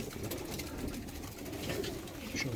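Pigeons coo steadily in a coop, a low continuous burbling from several birds close by, with no talk over it.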